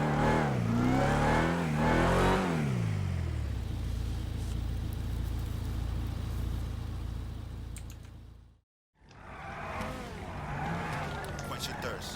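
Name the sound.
Dodge Challenger Demon engine revving, video game sound pack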